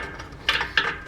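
Two short metallic ratcheting clicks from a nut being snugged up on a false bottom, close and fairly quiet, separated by a brief pause.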